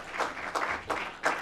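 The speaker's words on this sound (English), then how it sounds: "Let's give that a round of applause." Brief applause from an audience at a Penn Station revitalization presentation, a few swelling bursts of clapping at moderate distance, with no voices over it.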